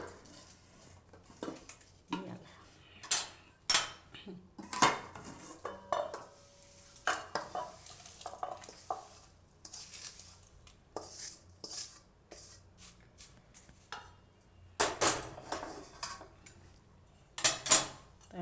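Hot ragi ladoo mixture is mixed in a pan with a utensil, giving repeated irregular scraping and clinking knocks of metal against the pan, close and moderately loud, with brief pauses between strokes.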